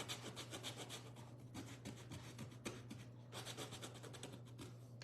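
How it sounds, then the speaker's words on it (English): Sandpaper rubbed roughly over the wood of a DIY surfboard wagon in steady back-and-forth strokes, a quiet rhythmic rasp over a constant low hum. "I'm pretty rough with this sandpaper too"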